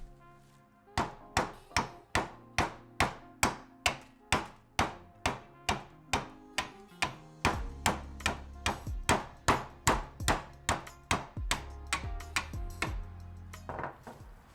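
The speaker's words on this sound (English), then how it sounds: "we're gonna take the screwdriver and bash it straight through the middle of the oil filter" A hammer repeatedly strikes a screwdriver to drive it through a stuck automotive oil filter, roughly thirty sharp metallic blows in a steady rhythm, loud and close, with the impacts getting heavier toward the end.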